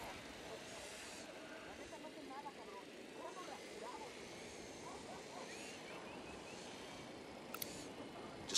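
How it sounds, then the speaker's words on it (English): A drone flying in Ghost Recon Wildlands gives a steady, faint aircraft-like hum with a buzzing propeller drone throughout, and a voice murmurs under it. "The drone is up."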